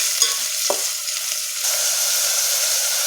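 Chopped onions stirred in hot oil for North Karnataka zunka vade crackle with a steady sizzle, punctuated by a couple of sharp spoon scrapes early on, close and loud without talk.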